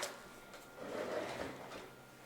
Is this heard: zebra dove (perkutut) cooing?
no